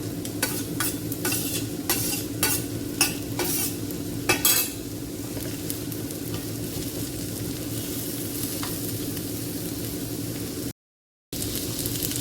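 Chopped onion and capsicum frying in a pan for vegetable poha, a dense sizzle with rapid stirring scrapes and clatters in the first few seconds, then a steadier frying hiss, close with no speech.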